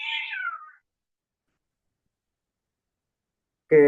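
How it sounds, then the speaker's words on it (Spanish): A house cat meows twice, close by: a short, high, wavering call at the start, then a fuller meow after about three seconds of silence, with no talking in between. "Mi gato está acá."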